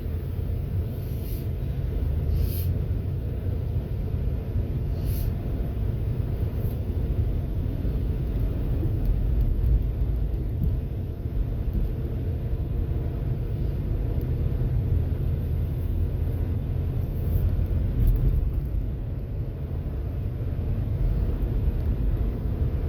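Steady low road rumble and tire hum inside a 2004 Mercury Sable while driving, a constant even drone with no talking and a few faint light rattles over it.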